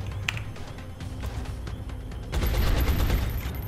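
Gunfire in XCOM: Enemy Within, scattered shots and a loud sustained volley of automatic fire in the final second or so, with no talking.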